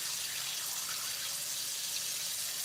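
Filtered water runs steadily from a tap to rinse farmers market vegetables, a constant close hiss of flow with no talk.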